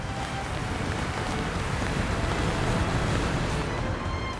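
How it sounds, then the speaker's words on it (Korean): Rough winter sea waves surge and crash continuously around a snow crab fishing boat off the east coast in heavy rain, a dense, loud roar of water and wind filling the whole stretch with no voices. "어느새 빗줄기는 더욱 거세지고 이번엔 파도마저 크게 일렁입니다."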